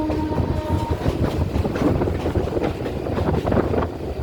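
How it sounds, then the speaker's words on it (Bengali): A Howrah–Digha EMU special train passes through Nalpur station without stopping, a loud close rumble of wheels and carriages with rhythmic clatter and wind buffeting, steady throughout with no voices. "Howrah Digha EMU special Nalpur station অতিক্রম করছে।"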